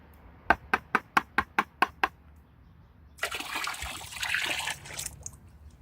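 Navy blue dye is poured into a container of water, heard as a brief watery pour and splashing burst after a run of seven evenly spaced sharp taps, with a lighter trickle following.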